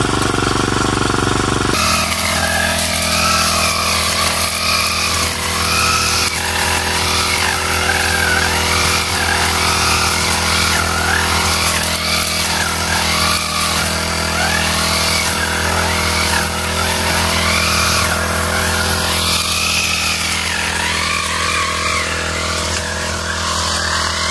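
Grass cutter engine runs steadily and loudly nearby for the whole stretch, a constant buzzing drone with slight shifts in pitch as it works, with no talking.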